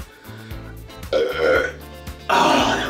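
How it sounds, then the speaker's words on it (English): A person gives a loud, drawn-out burp with a low croaking rumble that swells in two bursts, close to the microphone. "Burp."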